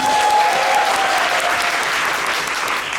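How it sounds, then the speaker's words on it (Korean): Theatre audience at a musical curtain call for The Devil: Eden, giving loud, continuous applause from a packed house, many hands clapping evenly throughout with no break. "큰 박수로 맞이해주시면 감사합니다"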